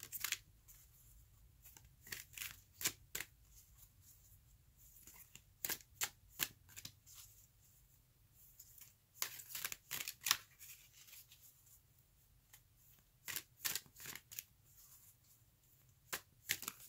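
Tarot cards shuffled by hand in repeated crisp riffling bursts, close and fairly quiet, with pauses between, no talking.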